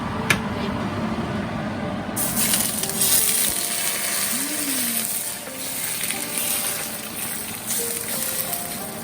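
Fish cooking in hot oil in a pan gives a steady, close crackling sizzle, with a sharp clink near the start and a fuller, louder hiss after about two seconds.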